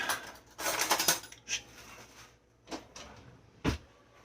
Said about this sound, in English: I'm going to grab a spoon